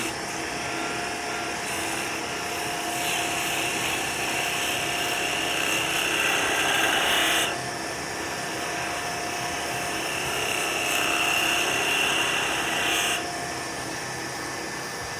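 A skew chisel refines a maple goblet spinning on a wood lathe, producing a steady, high, whining hiss with two longer, brighter cutting passes. No voices.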